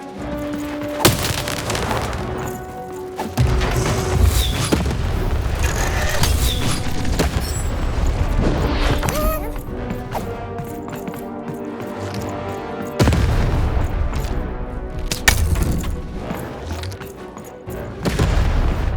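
A cannon fires repeatedly in the video game Lost in Random, with deep booming blasts and splintering, wooden cracks recurring over nearly twenty seconds, loud and dense with scattered crashing debris.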